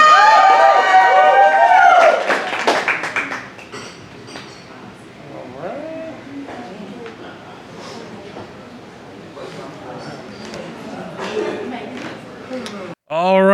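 Audience at a Halloween-themed poetry slam applauds and cheers for a poet, a loud burst of clapping and whoops that fades into a sustained murmur of crowd noise with scattered claps.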